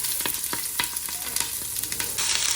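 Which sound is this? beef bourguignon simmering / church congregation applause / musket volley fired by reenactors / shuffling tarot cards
beef bourguignon simmering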